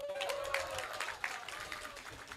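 Faint scattered clapping from an audience at a public discussion event in Lampung, somewhat distant, with a thin tone and some background murmur.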